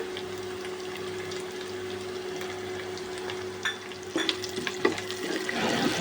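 Whole garam masala of bay leaf, cardamom, cloves, black pepper and cinnamon sizzles in hot oil for beef nihari, a steady frying hiss with a low hum, then louder crackles and stirring toward the end.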